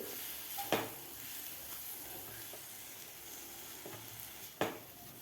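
Chopped jaggery being stirred and sautéed in a pan for coconut-jaggery modak, a soft steady sizzle under a scraping spatula, with two sharper clinks of utensil against the pan.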